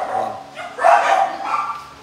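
Dogs at an animal shelter barking and yipping, a couple of close, loud barks in quick succession with a brief whimpering edge, no talk over them.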